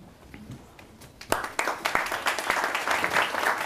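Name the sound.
audience applause for a panel participant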